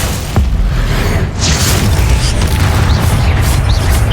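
Booming spell impacts from Incendio and Glacius cast in Hogwarts Legacy, a dense low rumble with a sharp burst near the start and repeated whooshing blasts layered over continuous game noise, loud and close.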